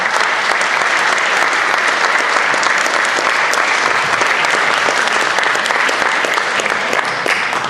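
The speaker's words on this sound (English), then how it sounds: "Let's give him a big round of applause." A large crowd at a Czechoslovakia 100th anniversary event gives loud, sustained applause, dense clapping that holds steady for several seconds and tails off slightly at the end.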